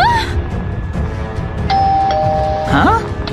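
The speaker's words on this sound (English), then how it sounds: "It's ringing the doorbell!" Two-tone doorbell chime rung by a puppet at a villager's house in the video game Minecraft, a steady tone held about a second, then a brief rising ding-dong near the end, over a dense game soundtrack with a speaking voice.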